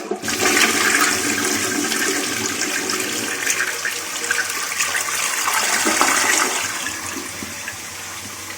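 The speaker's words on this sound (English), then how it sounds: "Alright, give it a second flush." A toilet that sits unlevel on the floor is flushed a second time with bugs in its tank: a loud, close rush of swirling water that surges strongly, then gradually eases and thins toward the end.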